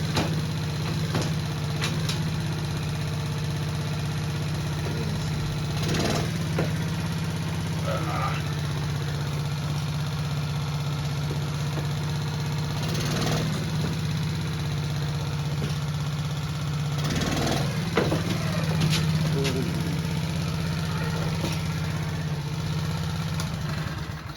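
The small 50cc engine of a Kazuma Firehawk Chinese quad runs in first gear, a steady, even drone that carries on for the whole stretch with occasional light clicks and knocks over it.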